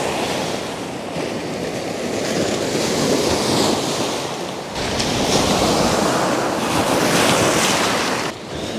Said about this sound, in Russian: Здравствуй, море.